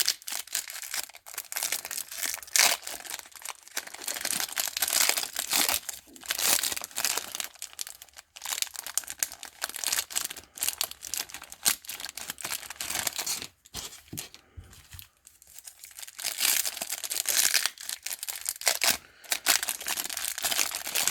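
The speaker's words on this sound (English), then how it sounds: "Let me just rip a couple of packs, then we'll fly through the cards." Foil wax packs of 1989 Topps baseball cards being torn open, with continuous close crinkling and ripping of wrappers in repeated bursts and brief pauses, no talking.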